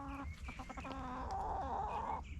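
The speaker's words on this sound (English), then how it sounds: "you can see my little chickens are having a lot of fun." Backyard chickens in a permaculture garden cluck softly and steadily, with a run of quick clucks and a longer drawn-out call, against a low constant hum.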